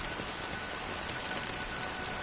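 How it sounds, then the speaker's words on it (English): Rain falls steadily, a dense even hiss of drops on surfaces at a soft, constant level with no voices. "it's still raining."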